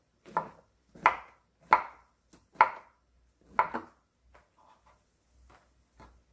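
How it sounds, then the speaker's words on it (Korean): A knife slicing king oyster mushrooms on a cutting board, about six crisp, separate thunks at an unhurried, irregular pace, close and clear with near silence between cuts, then a few faint small knocks. "이렇게 썰어줍니다."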